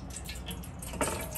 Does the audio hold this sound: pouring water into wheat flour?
yes